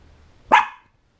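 A small dog gives a single sharp, close bark after a moment of near silence, then quiet again, with no talking.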